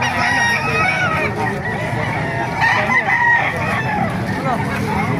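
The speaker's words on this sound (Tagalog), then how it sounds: "Ayan, mga manok dito." Roosters crow loudly and repeatedly nearby while hens cluck in a busy chorus around them at a poultry market in Baliuag, Philippines, with a faint voice underneath.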